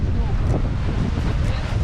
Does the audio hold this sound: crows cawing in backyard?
no